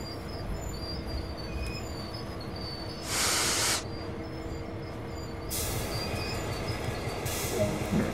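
Diesel locomotive in Train Sim World 2, a Clinchfield Railroad F7 or SD40, with a steady low rumble and wheel noise in a rail yard, interrupted by two or three bursts of hissing air, with no talk.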